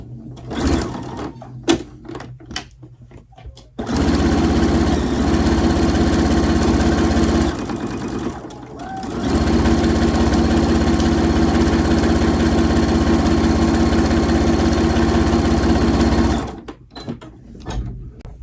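A sewing machine runs steadily while stitching a sock, with two long continuous bursts of motor whir broken by a short pause and bracketed by brief handling clicks and taps.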